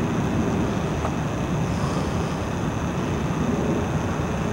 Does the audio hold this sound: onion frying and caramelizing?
no